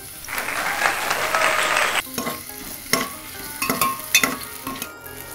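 Whole cumin seeds hitting hot oil in a pan, a loud burst of sizzling for a couple of seconds that settles into softer crackling with utensil clinks.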